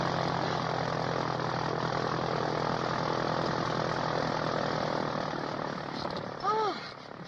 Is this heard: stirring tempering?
no